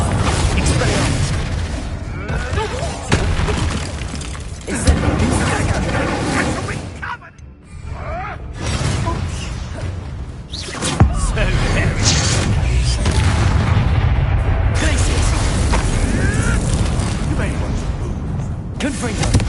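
Spell blasts in the video game Hogwarts Legacy, repeated loud booms and crashes spread through a busy fight, with a voice speaking over parts of it.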